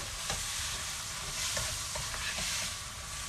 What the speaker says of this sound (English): some Sriracha Flying Goose sauce going in now. Just some added spice. I'll give it a good mix.